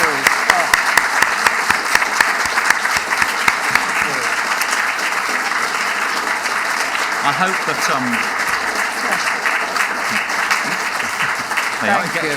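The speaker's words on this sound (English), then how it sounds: "you get extra applause, you see, you do" Sustained applause from a studio audience at the close of an interview with an actor, steady dense clapping for about twelve seconds, with someone speaking briefly near the end over it.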